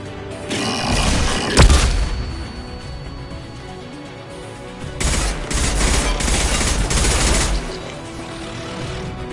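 Gunfire in Mass Effect 2 (Legendary Edition): a heavy booming shot, then bursts of rapid automatic fire with a quieter lull between, loud and close.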